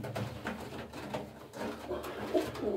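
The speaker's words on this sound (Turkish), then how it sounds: "kümesimin en yaşlı güvercini, şu yuvalıkta öten beyaz Gökhan abi." A ten-year-old white pigeon coos softly and repeatedly from a nest box inside its coop, making low, throaty, rhythmic calls at close range.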